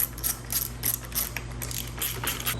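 A ratchet clicks in quick repeated strokes while tightening the bolts on a new fan motor for a 2006 Subaru STI, close up and steady with no talk.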